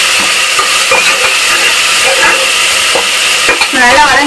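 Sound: spices with chili powder sautéing in a pan

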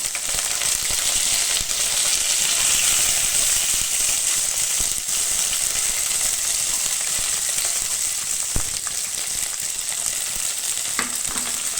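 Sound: small onions and curry leaves frying in oil

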